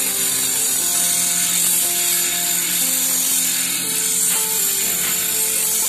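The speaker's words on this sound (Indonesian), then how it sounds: "Setelah seperti ini baru kita gerinda lagi." A grinder works on a handmade manual lapping tool, producing a loud, continuous high-pitched whine with shifting tonal hums as the metal is ground, alone with no talk.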